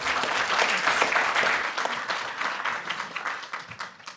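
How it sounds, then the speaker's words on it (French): Audience applause at a scientific conference session, a dense burst of many hands clapping at once that fades gradually toward the end. "On peut les applaudir."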